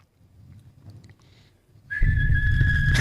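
A sharp referee's whistle blown at an NBA game, as a technical foul is called on the Mavericks; it sounds loud and sustained for about a second over the roar of the crowd, after quieter murmuring.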